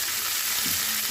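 Onions, capsicum and green chilies frying in a pan give a brief, even, close-up sizzle with no voices.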